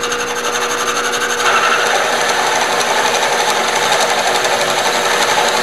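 A Grizzly G0776 machine runs at 660 RPM while a cutter is hand-fed slowly into cast steel without lubricant, producing a loud, steady mechanical whine and rattle that swells slightly after a second and then holds constant.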